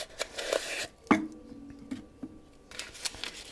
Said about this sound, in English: when you roll open the wax paper and see your new GEC